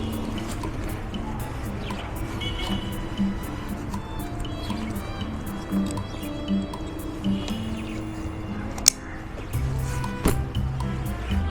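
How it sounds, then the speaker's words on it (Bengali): Water dripping and trickling onto a Dirtsack Max waterproof motorcycle tail bag during a water test, a continuous close wet patter with scattered drip taps and a sharp knock near the end. "আর একটু ভিজিয়ে দিচ্ছি, যেখান থেকে জল ঢোকা সম্ভব"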